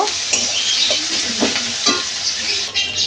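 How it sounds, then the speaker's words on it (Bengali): Sliced onions browning in oil sizzle steadily nearby, with a few distinct stirring strokes and scrapes against the pan. "পেঁয়াজটা আমার লাল লাল করে ভাজা হয়ে গেছে,"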